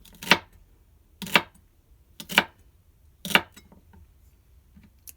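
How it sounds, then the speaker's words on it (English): A sharp knife chops through celery on a cutting board, giving four crisp, evenly spaced cuts about a second apart, close and distinct against a quiet background. "Hold the vegetable and then press the sharp blade side down into the celery."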